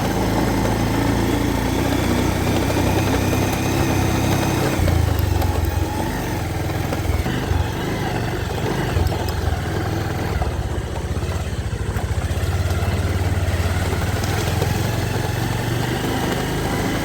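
A vehicle's engine strains and revs unevenly as its wheels slip on a steep hill road to a village, a loud, continuous rumbling drone up close with fluctuating pitch throughout.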